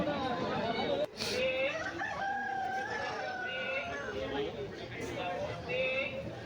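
An Aseel rooster crows repeatedly amid the bustle of the Erragadda Sunday market, with people talking close by throughout.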